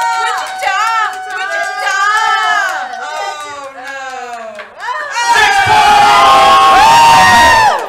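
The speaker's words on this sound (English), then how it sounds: "Cheer on, everyone!" A game show audience shouts and cheers at a live-streamed trivia game, with excited voices and whoops building into a loud, sustained roar of cheering near the end.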